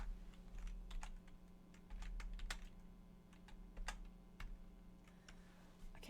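Rapid clicking of keys on a computer keyboard in irregular bursts, close and clear over a steady low electrical hum, with no one talking.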